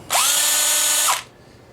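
A drill spins a homemade paddle mixer, an aluminum shaft with a thin steel sheet-metal blade, used for mixing Alumilite resin. It makes one loud, steady whine of about a second, with a quick spin-up and wind-down, heard alone.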